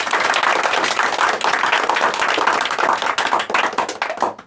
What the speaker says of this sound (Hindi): मैं चाहूँगा कि इनके लिए एक जोरदार ताली।